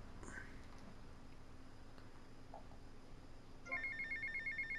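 Cell phone ringing in the video game GTA Vice City: after quiet ambience with faint murmuring, a repeating electronic ring tone starts near the end and pulses several times.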